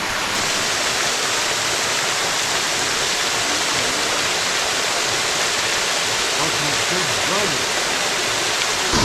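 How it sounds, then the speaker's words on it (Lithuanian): A waterfall in Latvia, running low on water, roars in a steady, dense wash of rushing water, constant and loud throughout. "Toks va tas krioklys."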